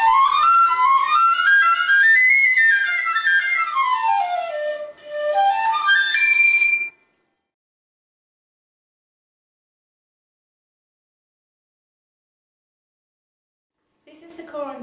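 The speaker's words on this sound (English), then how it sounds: "This is the piccolo. It's just a smaller version of the flute." A piccolo with a silver head and plastic body plays a bright, piercing solo line that climbs and falls in quick runs. It stops after about seven seconds, then a long silence follows before a few more high notes come in at the end.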